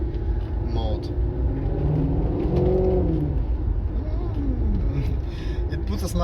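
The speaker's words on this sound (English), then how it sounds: "I love the sound of downshifts in sport mode." A 2017 Maserati GranTurismo engine rumbles and blips through a downshift in sport mode, revs rising and falling up close, with someone talking over it.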